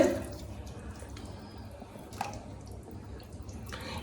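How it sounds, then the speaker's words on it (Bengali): Mutton mince being rinsed under running water in a home kitchen: a faint, steady wash of water with soft dripping and splashing for a few seconds, no voices. "এই মাটন কিমা ধুচ্ছে"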